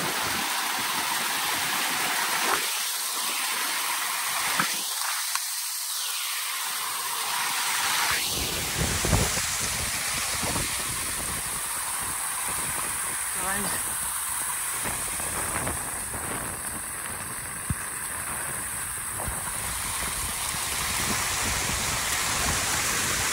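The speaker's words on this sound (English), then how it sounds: "Anyari waterfall looks like." A waterfall on the Anjaneri hills trek near Nashik roars as a steady broadband rush of falling water, loud and constant throughout with some wind buffeting early on.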